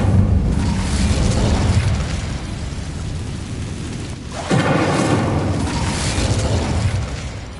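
A fire spell cast in Hogwarts Legacy bursts as a loud roaring whoosh with a booming rush partway through, dense and sustained over a noisy game backdrop.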